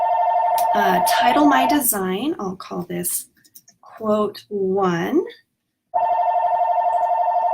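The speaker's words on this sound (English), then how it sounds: "Sorry about the ringing phone" A telephone rings with a steady electronic trill that starts before someone speaks, drops out while he talks and pauses, then starts again loud and unbroken afterward.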